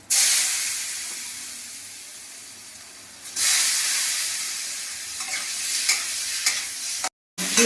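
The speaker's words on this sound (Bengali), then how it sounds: "আলু ভাজাটা হয়ে গেল, আর একটু লাল লাল করে ভেজে নেবো" Potatoes, parboiled and drained, frying in a pan with turmeric, green chillies and dried chillies, giving a steady close hiss and sizzle with occasional stirring scrapes; it grows louder about halfway through, then cuts out briefly near the end.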